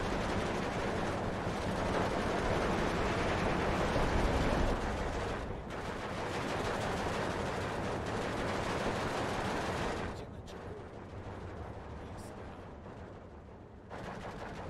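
Machine guns fire in the wartime strategy game Steel Division 2, with dense, loud bursts of gunfire that rattle continuously, break off briefly, and then carry on more quietly with a final burst at the end.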